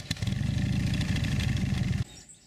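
A touring motorcycle engine runs close and loud for about two seconds while riding, then cuts off abruptly to near quiet.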